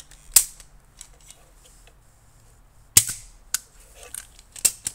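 A modified Nerf gun is dry-fired with its air outlet blocked. Several sharp, close snapping clicks come at irregular intervals, with small mechanical rattles between them.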